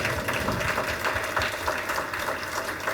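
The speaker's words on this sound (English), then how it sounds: "if everyone could just give them a round of applause." Applause at an award banquet, a steady dense patter of many hands clapping throughout at moderate level, with no clear voices over it.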